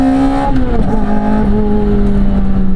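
A mid-engine Porsche Cayman R or Lotus Elise sports car downshifting from third to second, a loud close engine note whose pitch steps down through the shift and then settles into a steady drone.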